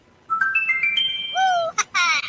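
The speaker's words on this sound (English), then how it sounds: "Text message." A chirpy electronic text message alert tone on a sports radio desk: a run of rising beeps, a swooping tone, then a brighter burst of chimes, clear and close.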